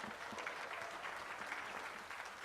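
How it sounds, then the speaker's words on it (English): Steady, dense applause fills an indoor arena at the Blackpool Championship Dog Show, where the gundog group is being judged and a young handler stands with her Golden Retriever bitch. The clapping is moderately distant and unbroken. "big round of applause for this young handler and her Golden Retriever bitch"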